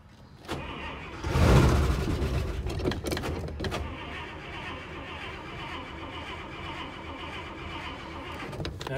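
A 1956 Buick Century engine cranks and briefly catches with a loud surge, then keeps turning over with a rough, uneven running sound at a steady, moderate level.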